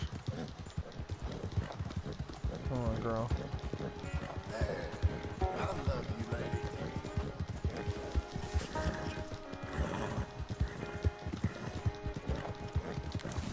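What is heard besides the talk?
horse hooves clip-clopping in a PS4 video game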